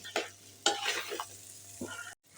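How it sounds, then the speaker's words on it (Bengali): Onions fry and sizzle in a pan while being stirred, with a few distinct scraping stirs over a steady low sizzle, close and moderately loud, no talking. "হয়ে গেছে আমার পেঁয়াজ ভাজা।"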